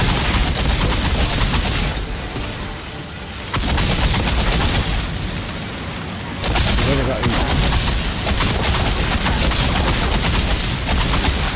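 Volcanic rounds in the Outriders video game fire in continuous loud barrages, with two short lulls before the shooting resumes, under occasional speech.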